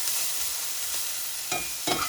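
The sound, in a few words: meat sizzling as it browns in a hot pan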